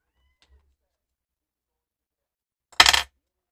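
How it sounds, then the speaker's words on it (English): After near silence, a single short, loud meow from a cat sounds close by. "meowing."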